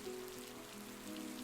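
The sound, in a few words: rain tapping against bakery windows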